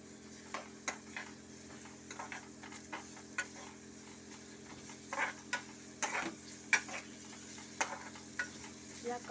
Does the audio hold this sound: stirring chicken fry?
yes